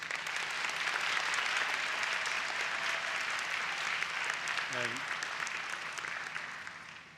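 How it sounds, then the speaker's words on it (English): An audience at a student academic excellence awards ceremony gives a long, even round of applause, many hands clapping steadily before gradually thinning out, with a brief voice rising over it. "another round of applause, please."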